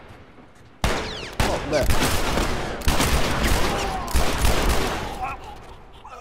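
Video-game gunfire in The Last of Us breaks out in loud, rapid bursts of close shots, several volleys with short gaps between them, while a voice briefly speaks over the noise.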